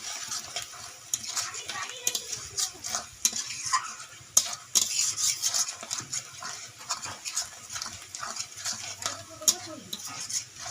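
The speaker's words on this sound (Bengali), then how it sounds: "লঙ্কার গুঁড়ো দিয়ে দিচ্ছি, আবারও ভালো করে নাড়ছি" Chicken masala with chili powder stirred in a frying pan, with repeated scraping strokes of a spoon against the metal over a steady sizzle, close up and uneven in rhythm, with occasional clinks.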